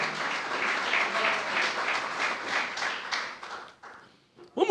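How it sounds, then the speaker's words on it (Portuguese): Audience applause at a church sermon, a steady wash of clapping for about four seconds that fades out, then a brief voice at the very end. "Pode aplaudir quem está entendendo."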